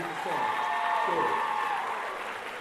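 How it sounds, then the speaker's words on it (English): Conference audience applauding after an original song, a continuous soft wash of clapping with a sustained voice-like tone over it, lasting under three seconds. "You all give Sister Cross another round of applause."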